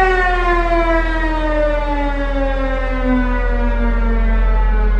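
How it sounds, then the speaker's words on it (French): A loud civil defense alert siren wails steadily on its own, one long sustained rising-and-falling tone filling the whole stretch with no voices. "Le mugissement de la sirène donne l'alerte."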